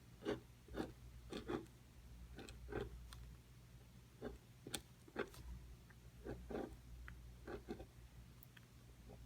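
A pen scratches out a chemical structure by hand in a series of faint, quick ticks and short strokes over a low background hum.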